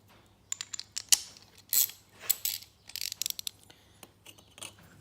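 A spark plug spanner ratchets out an engine spark plug in quick irregular bursts of sharp clicks and metallic rattles, close and fairly quiet, with short pauses between strokes.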